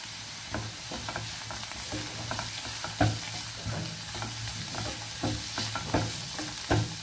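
Mushrooms sizzle steadily in a hot pan while a utensil scrapes and stirs them in repeated clacks; no talking.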